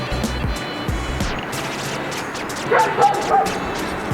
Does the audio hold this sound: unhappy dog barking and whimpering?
yes